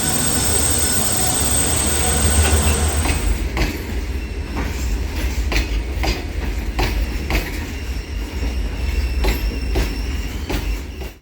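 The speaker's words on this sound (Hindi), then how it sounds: "यहाँ हसन से मैंगलुरु जाने वाली एक फ्रेट है जो कि हमें क्रॉस करेगी।" Freight train bound from Hassan to Mangaluru, led by twin WDG4 diesel locomotives, passing close by: a loud engine roar gives way to rhythmic clickety-clack of wagon wheels with occasional squeals, continuing steadily.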